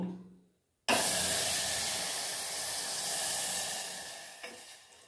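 Milk poured onto hot melted sugar for masala tea, a sudden loud hiss bursting in after a brief quiet moment and then a long steady sizzling rush that slowly fades.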